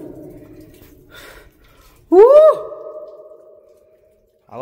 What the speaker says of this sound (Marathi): आवाज बघा किती घुमतोय.